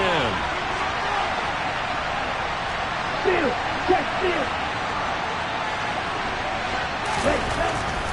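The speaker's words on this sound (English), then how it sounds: "Crowd getting in it a bit already." Football stadium crowd at a Panthers at Giants NFL game, a broad steady roar of cheering that stays loud throughout, with a play-by-play commentator speaking over it.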